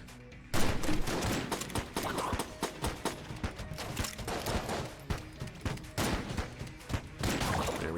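Shotgun fire rings out in the Enter the Gungeon video game, with repeated sharp blasts in quick succession over dense game music and effects, loud and continuous.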